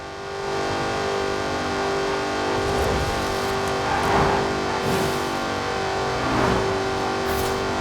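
Jaguar Project 7 in Forza Horizon 4, its engine droning steadily at a loud, sustained pitch with a few swelling revs, heard alone without talk.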